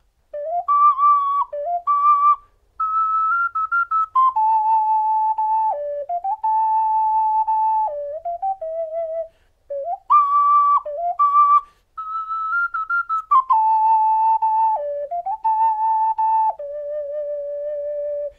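A double ocarina plays the melody of Song of Storms from The Legend of Zelda, with clear, pure whistle-like tones in steady phrases, two sustained voices moving together, close and loud, with a short break midway.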